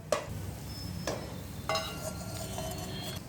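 Tomatoes sautéing in hot oil for egg biryani in a cooker: a gentle sizzle and stirring, punctuated by three distinct clinks of a spoon against the pot, close and with no talk.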